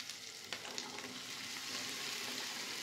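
Sago pearls hit hot oil with chili and potato and fry in a steady, close sizzle, with a few light stirring clicks early on and no talk.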